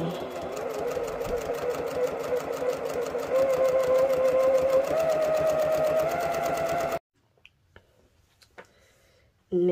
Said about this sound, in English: if you're sewing over pins which you should not be so very slow